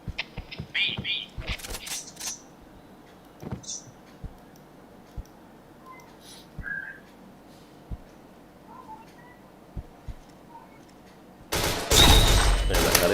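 In the shooter game Point Blank, gunfire comes as scattered sharp clicky shots and short bursts with small interface blips, ending in a loud, dense burst of rapid fire.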